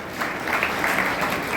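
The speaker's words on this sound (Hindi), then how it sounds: "भाई के लिए भी जोरदार तालियां" Steady applause from an audience at a stage event in India, a dense even wash of clapping that holds for the whole short stretch without voices on top.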